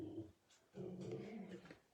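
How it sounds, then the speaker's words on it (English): A dog barks and growls at people walking past the house, giving a short low burst followed by a longer rough, grumbling run of barks at moderate distance with no talk over it. "I don't know if you can hear the dog barking"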